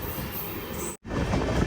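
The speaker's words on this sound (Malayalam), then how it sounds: "കണ്ണൂരിൽ നിന്നും 62 കിലോമീറ്റർ യാത്ര ചെയ്ത ട്രെയിൻ ഇതാ കാഞ്ഞങ്ങാട് സ്റ്റേഷനിലേക്ക് എത്തിയിരിക്കുകയാണ്" A Kannur–KSR Bengaluru Express with LHB coaches rolls into Kanhangad station, a continuous rumble of wheels and carriages heard from on board, broken by a moment of silence before the noise resumes.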